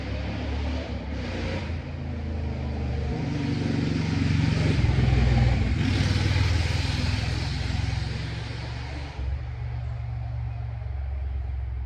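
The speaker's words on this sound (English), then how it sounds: "some dumbass just rode over here on a motorcycle" A motorcycle engine rumbles past outdoors, rising from a steady drone to a louder broad roar over several seconds and then easing back down, heard from a moderate distance with no talking.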